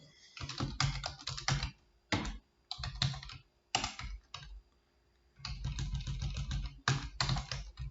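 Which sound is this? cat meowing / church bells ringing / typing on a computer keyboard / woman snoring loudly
typing on a computer keyboard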